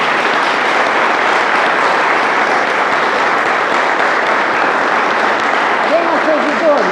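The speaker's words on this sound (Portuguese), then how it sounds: "uma salva de palmas para todo mundo" A gathering applauds everyone at a spiritist centre's 26th anniversary celebration, with loud, continuous clapping throughout and a voice starting to speak faintly near the end.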